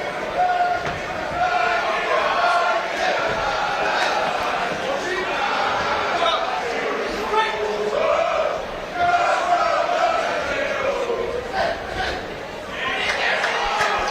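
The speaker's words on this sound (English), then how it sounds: "Some good chants there from the crowd for Caswell." Crowd at a live boxing fight night chanting for boxer Caswell, a loud sustained roar of rhythmic voices filling the venue, with talk over the top throughout.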